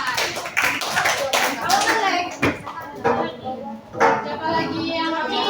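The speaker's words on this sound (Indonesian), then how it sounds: "Beri aplaus dulu untuk kelompok 4." Applause for a student group at the close of a peer-teaching class presentation, a dense burst of clapping from a room of people with children's voices mixed in, fading somewhat partway through.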